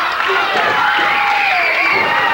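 A wrestling crowd at a 1986 Memphis match cheers and shouts in support of Tommy Rogers, a loud, continuous wash of voices with whoops rising over it.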